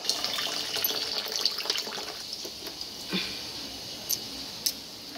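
Water runs steadily into a home drinking water filter, a continuous close splashing trickle with a few small clinks, and no voices.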